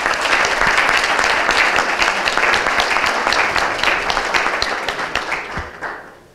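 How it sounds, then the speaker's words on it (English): An audience applauds the panel speakers at a funders' meeting, dense steady clapping that holds strong for about five seconds before tapering off at the end. "One more round of applause for our speakers."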